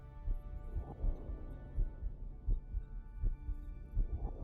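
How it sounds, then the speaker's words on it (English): A heartbeat in the Star Trek Voyager: Across the Unknown video game: a steady, low, muffled thumping pulse repeating about once a second over a soft hum. "We can hear a heartbeat."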